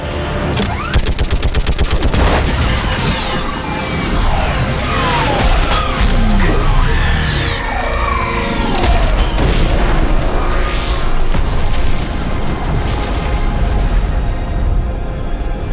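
Mass Effect 3 battle with an orbital strike: dense, loud, continuous barrages of explosions, booms and rapid gunfire, with sweeping energy-weapon whines, alone without talk.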